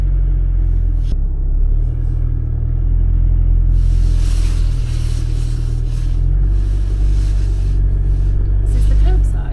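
A motorhome's engine rumbles steadily on the road, a deep low drone with swells as it accelerates, loud and close inside the cab.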